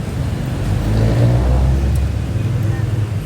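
A Mitsubishi Montero Sport pulls away with a low, rumbling engine note that swells briefly and then settles, heard at moderate distance.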